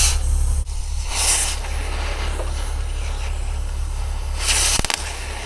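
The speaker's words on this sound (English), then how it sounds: "now we had to bring out the torch to get everything else off" A torch flame roars steadily and loudly, heating seized sprocket shaft parts, with two sharper hissing flare-ups and a short rattle near the end, no voices.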